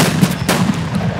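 Gunfire in the video game Escape from Tarkov: several loud, close shots crack in quick succession over a short stretch, with no talk.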